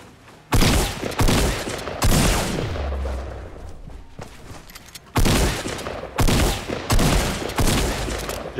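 Bursts of rapid gunfire in Fortnite Battle Royale crackle loudly again and again, some long sustained volleys and some short rattles, with no talking.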